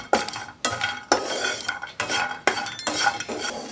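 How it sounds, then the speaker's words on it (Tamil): Cashew nuts dry roasting in a pan, stirred with a utensil in repeated scraping, rattling strokes about every half second, close and fairly loud with no talking. "இதுலேயும் ஒரு கைப்பிடி அளவுக்கு முந்திரி பருப்பு சேர்த்துக்கிறேன் நல்லா செவக்க வறுத்துக்க வேண்டியது தான்"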